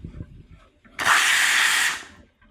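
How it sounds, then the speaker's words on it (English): An espresso machine's steam wand is purged, letting out a loud, steady hiss of steam for about a second that cuts off sharply, with faint quieter sounds before and after. "Before you steam, you want to pre-purge the steam wand as well to make sure there's no air in the system."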